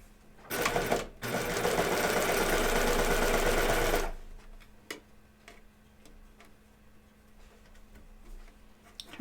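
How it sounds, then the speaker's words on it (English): A sewing machine runs in one steady, loud burst of rapid stitching for about three and a half seconds while elastic is stretched onto the waistband of pants, then stops, leaving quiet clicks and handling noises. "now I'm going to stretch the elastic while I sew it"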